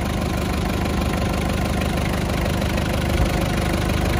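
A Hyundai Galloper 2.5-litre diesel engine runs close by, a loud steady clattering drone with no clear change in pitch.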